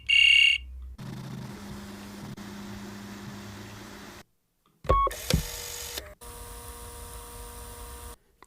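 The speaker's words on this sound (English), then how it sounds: "Oh, maybe this one, fax receiver." A fax receiver from the BBC Sound Effects library opens with a sharp dial-tone beep, then low electronic hum, a silent gap, and bursts of shrill handshake tones and screeching data noise, clean and close.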